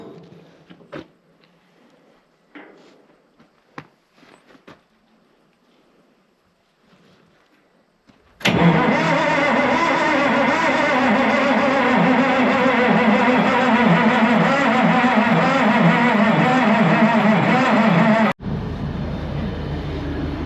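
A Caterpillar diesel generator with a fuel injection pump that isn't delivering fuel, cranked on its starter: faint clicks and handling noises, then about ten seconds of loud, steady churning that cuts off abruptly and gives way to a lower, duller drone.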